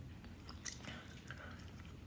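Kids chewing spicy watermelon candy from a snack box, a steady close, moist chewing and biting sound with soft squishy textures and a few sharper clicks.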